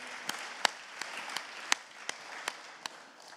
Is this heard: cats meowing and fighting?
no